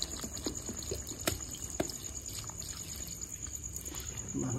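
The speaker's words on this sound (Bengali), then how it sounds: "এবার একটু জল দিয়ে দেবো যাতে আলু আর চিকেনটা সেদ্ধ হয়ে যায়" Water is poured into a pot of simmering chicken and potatoes, producing a soft, close trickle and splashing with a few sharper knocks against the pot.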